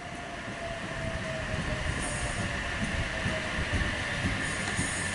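Train arriving into platform 1 at Corrimal station, a steady loud rumble of wheels on rails with a faint squeal as it rolls in close by.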